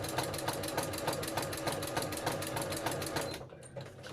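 A sewing machine runs a zigzag stitch across a fabric bird journal cover with a fast, even, close rhythmic clatter, then stops abruptly near the end.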